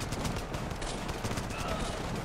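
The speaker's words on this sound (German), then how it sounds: "Oh Gott, da werde ich auch geschossen." Rapid gunfire in the video game Running With Rifles, a dense stream of close shots crackling continuously.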